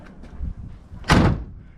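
The door of a 1964 Buick Skylark barn find shuts with a single solid, close thunk, preceded by faint handling sounds and a softer bump.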